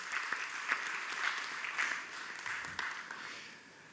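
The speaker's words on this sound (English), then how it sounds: "Let us give him a round of applause" An audience at a social media conference panel in Malaysia applauds continuously, with a steady wash of clapping at moderate volume and no voices rising above it.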